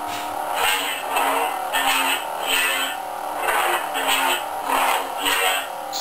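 Sith-style Korriban lightsaber sound font swinging, with a series of loud, rising and falling whooshing hum swells repeating steadily throughout and no talking.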